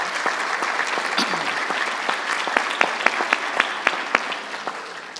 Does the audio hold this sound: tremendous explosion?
no